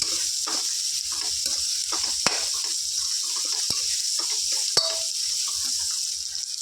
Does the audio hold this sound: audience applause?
no